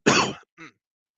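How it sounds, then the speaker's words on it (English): A single harsh cough bursts out loud and close, followed a moment later by a short, softer second cough, from a person recovering from a cold. "I'll try to mute some coughs and cover the mic"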